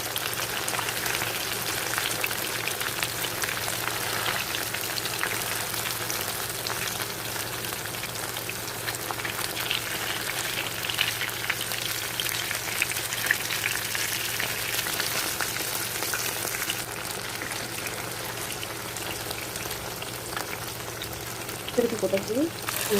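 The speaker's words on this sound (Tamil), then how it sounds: "மீன் வறுக்கும்போது நம்ம அனல் கம்மியாக வச்சு வறுக்கணும்." Fish sizzles steadily in a pan over low heat, a continuous soft crackle of hot oil running for the whole stretch, with faint kitchen clatter near the end.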